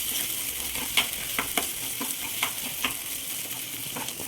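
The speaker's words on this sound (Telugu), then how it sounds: "సో ఇదంతా కలుపుకోవాలి, మిక్స్ చేసుకోవాలి." A mirchi bajji filling of boiled salted potato and coriander powder is stirred and mashed together. Soft, wet mixing and light spoon taps repeat steadily at close range.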